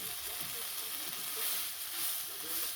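Lardons and onion frying in a pan, a steady close sizzle with crackling spits throughout, no voices.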